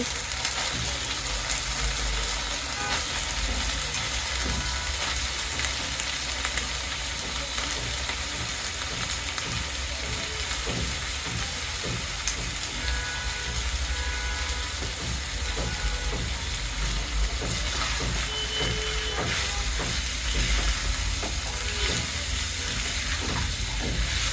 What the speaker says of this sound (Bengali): এখানে আমি কিছু আলু ছোট ছোট করে টুকরো টুকরো করে কেটে নিয়েছি, এরা কেটে ধুয়ে পরিষ্কার করে রেখেছি, এগুলো দিয়ে দিচ্ছি